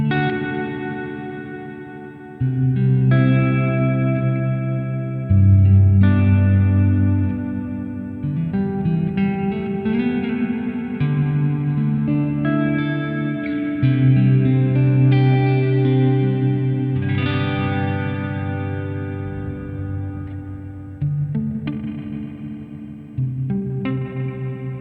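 Electric guitar played through the reverb effect of a Hotone Ampero Mini with the mix turned all the way up, sustained chords and notes washing into a long, lush tail.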